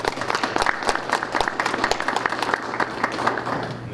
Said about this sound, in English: please join me in recognizing Ryan with a round of applause